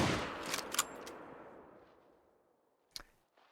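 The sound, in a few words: hunting rifle shot at a male animal in a Yukon hunting video game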